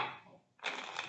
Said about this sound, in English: Let's take a look at the side shuffle.